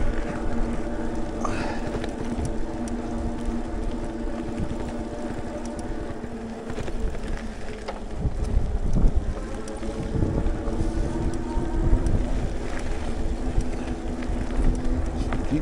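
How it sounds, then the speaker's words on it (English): Steady wind roar buffeting the microphone while riding a motorcycle into a northwest wind on a road trip between Custer and Scottsville, Michigan, with engine rumble underneath, loud and continuous throughout. "I'm riding into the wind today, right now."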